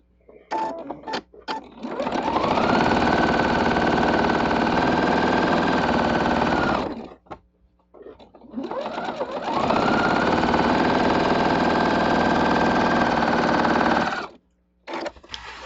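A sewing machine stitches quilt blocks in two long, steady whirring runs, each lasting several seconds and separated by a brief pause, with light handling clicks at the start and end.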